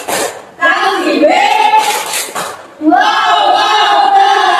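A sixth-grade class chants loudly in unison in rhythmic bursts, with a short pause between phrases and possible hand slaps woven in.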